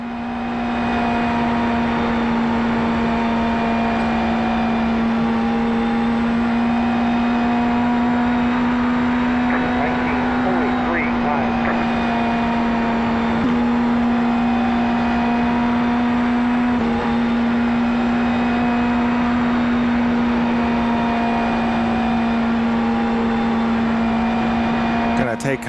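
An IndyNXT open-wheel race car engine in iRacing on the Iowa oval holds a loud, steady high-pitched drone at near-constant revs, running on without a break from start to finish.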